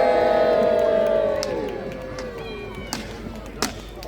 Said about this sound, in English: Ladies and gentlemen, cheer for Duke William, the man who would be King of England.